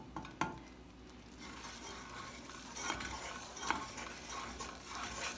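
A matzah topping cooks in a pan, turning blonde as it goes, with faint sizzling and occasional stirring scrapes and clinks close by, steady and low throughout.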